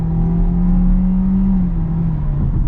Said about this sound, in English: let's get our acceleration here with the non-turbo Seltos